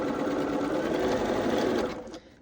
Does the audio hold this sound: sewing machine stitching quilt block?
yes